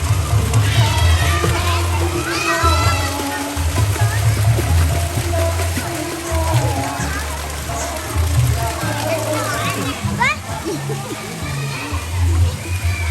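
Children swimming and playing in a public swimming pool at Cantika Mat, with splashing, sloshing water and excited kids' shouts and chatter filling the space, close and lively, with adults talking now and then.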